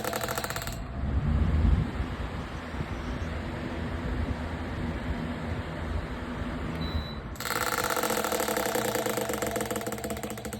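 An electric fan with a buzzing, rattling fault, heard as a continuous mechanical hum and rattle that stays steady and fairly loud throughout, with no talk.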